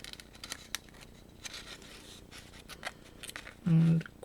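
Scissors trim tape on a craft shaker card: soft, brief snips scattered through a quiet background, ending in a short louder rustle.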